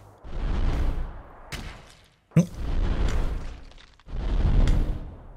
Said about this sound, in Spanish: Y la explosión cuando llegue el barril, lo siento mucho, pero os va a dejar un poco, un poco sorditos